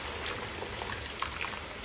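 Water pours into a cooking pot while breakfast is being made, a short, soft trickling splash close by with no talk.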